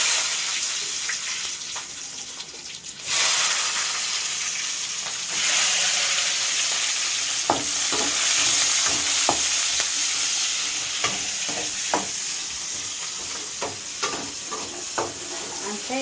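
Garlic and onion fry with cumin in a pan, giving a steady, bright sizzle close up, broken by repeated clicks and scrapes of stirring.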